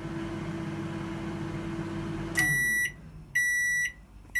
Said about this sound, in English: just let that go for a minute and it should distribute a load of steam around the microwave